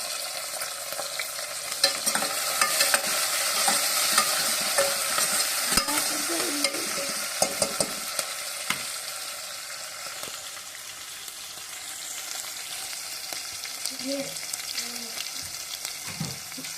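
Green chilies frying in a pan and being stirred, a steady sizzle with scraping stir strokes and occasional clinks, close and continuous, no talk.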